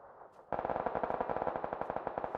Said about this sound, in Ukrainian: Це ненормальна зброя, це П90.